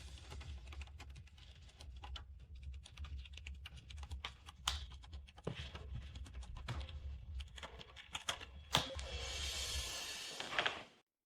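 Steady computer keyboard typing, quick continuous keystrokes with occasional harder key hits over a low background hum, ending in a brief hissy burst as the typing stops.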